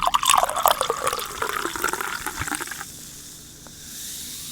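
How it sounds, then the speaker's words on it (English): A bubbly drink poured into a glass, a close, loud splashing stream with fizzing crackle that tapers off into a soft hiss after about three seconds, no voices. "put your volume up. It's time for the pour."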